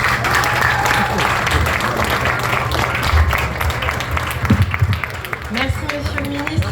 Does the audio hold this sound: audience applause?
yes